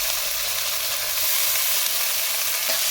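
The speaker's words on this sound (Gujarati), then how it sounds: "3 થી 4 મિનિટ માટે એને સોફ્ટ થઈ જાય ત્યાં સુધી સાંતળીશું" Chopped green onions sauté in a hot pan for a Kathiyawadi roasted eggplant dish, giving a steady, close, bright sizzle that holds evenly throughout with no talking.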